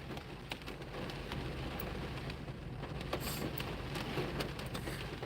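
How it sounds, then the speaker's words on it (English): Rain falls in a steady, close patter, with occasional sharper drips standing out from the continuous hiss, and no one speaks. "Listen to how my rain sound."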